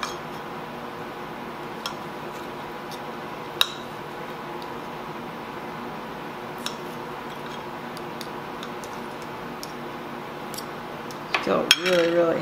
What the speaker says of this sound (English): Cut the pork chop a little.